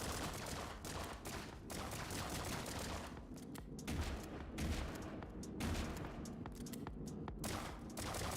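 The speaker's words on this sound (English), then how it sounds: "At least we have our ricochet gun in all its glory." Rapid bursts of ricochet gun fire from a video game crackle almost nonstop at close range, with dense overlapping shots and no pauses.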